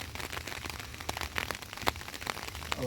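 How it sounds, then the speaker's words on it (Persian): Pouring rain patters densely on surfaces nearby, a continuous hiss threaded with sharper drips and splashes. "بارون میزنه"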